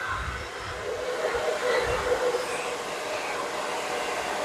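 A hair dryer blows steadily throughout, a continuous close, even rushing hiss while hair is blow-dried at home in a salon-style blowout.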